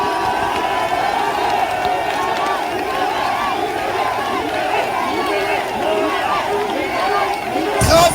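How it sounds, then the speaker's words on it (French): A crowd at a Cameroonian political rally cheers and shouts continuously in a loud, dense roar of many voices, with applause mixed in throughout. "Applaudissez encore plus fort pour lui."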